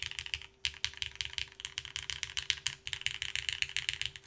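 Someone types fast on an MK Point65 mechanical keyboard, close up. Dense, steady clacking keystrokes run on with a brief pause, and a faint constant hum sits underneath.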